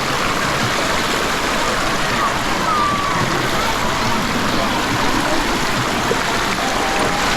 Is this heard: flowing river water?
yes